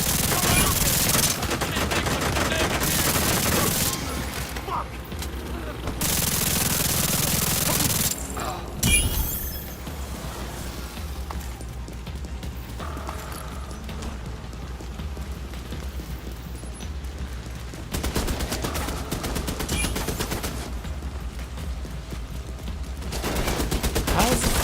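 Automated turret in The Division 2 fires bursts of gunfire over about 25 seconds, loud rattling volleys that come and go in stretches between quieter gaps of game noise.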